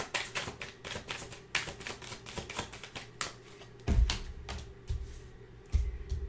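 Quick, crisp rippling of tarot cards being shuffled, repeated in bursts with soft thumps as the deck is squared, close and fairly quiet.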